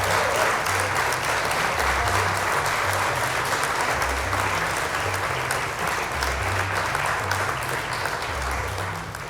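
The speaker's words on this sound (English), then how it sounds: "Also, when I say something fun, we might get a little bit of applause." Applause from a soundboard: dense, even clapping that stays loud and steady throughout, with no voices over it.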